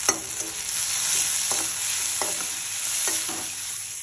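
Leftover rice frying in a pan, a steady broadband sizzle with scraping stirs of the spatula recurring every second or so, close and fairly loud, with no talking.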